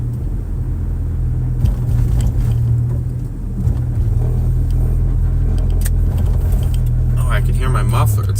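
A car engine with a loud muffler hums close by, a deep steady rumble with slight swells, while people talk over it and small clicks and rattles come through near the end.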